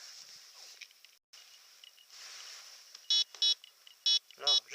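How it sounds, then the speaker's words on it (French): A Land Ranger Pro metal detector sounds four short buzzing tones over aluminium, paired bursts in quick succession after a stretch of faint hiss. "il sonne sur aluminium"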